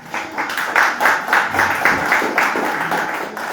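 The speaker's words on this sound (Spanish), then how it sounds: "un fuerte aplauso" Rhythmic applause from an audience at a commemorative march gathering in Montevideo, moderately close, with claps pulsing steadily and without talk.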